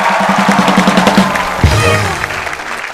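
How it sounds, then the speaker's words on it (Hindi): A crowd applauds with dense, steady clapping mixed with some cheering, holding at a strong level throughout. "जोरदार तालियां"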